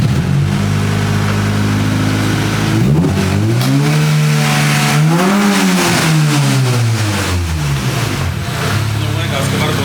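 A Honda Integra race car engine starts and revs at close range, its pitch rising and falling through several loud swells over a steady idle, with voices talking around it.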